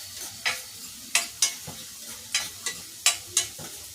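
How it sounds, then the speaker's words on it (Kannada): Onions frying in hot oil for a cashew-almond chicken fry, with a steady low sizzle broken by repeated sharp scrapes and stirs roughly every half second, close and moderately loud, no talking. "ಈರುಳ್ಳಿನ ಹಾಕ್ಬಿಟ್ಟು ಚೆನ್ನಾಗಿ ಫ್ರೈ ಮಾಡಬೇಕು"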